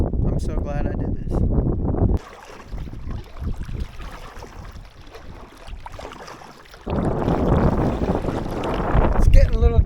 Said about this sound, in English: I don't know where the wind just picked up from.